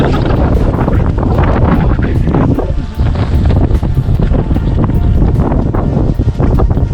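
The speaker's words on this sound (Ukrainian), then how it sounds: "Тут вітер такий великий." Strong wind buffets the microphone with loud, continuous roaring gusts, broken only by a brief lull, with a faint voice barely audible beneath.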